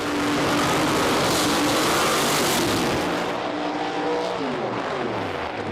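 Nitrous-fed Pro Mod drag cars at the British Drag Racing Championship roar off the line with a loud, sustained broadband engine blast that tapers into a descending drone as they pull away.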